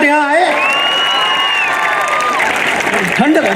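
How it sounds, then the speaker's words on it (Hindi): Festival audience clapping and cheering at a closing ceremony of the Moradhwaj Arang Mahotsav, a loud crowd with whoops and shouts mixed in, voices carrying over the applause. "ताली बजाओ यार, कम से कम गर्माहट यहाँ आए"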